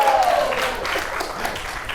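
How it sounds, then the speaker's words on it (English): A burst of audience applause, many hands clapping at once in a dense, fading wash, with a voice briefly audible at the start. "Y'all need to clap louder at that."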